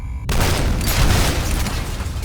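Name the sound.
repeating cannon firing in video game F.E.A.R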